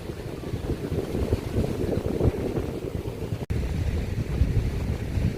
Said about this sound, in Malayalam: കടലിൻ്റെ കാറ്റ് നല്ല കാറ്റടിക്കുന്നുണ്ട്.